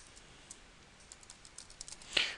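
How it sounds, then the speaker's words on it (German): Quiet typing on a computer keyboard during a Windows 8 setup, soft scattered key clicks building toward a brief louder burst of keystrokes near the end. "ich kann tippen"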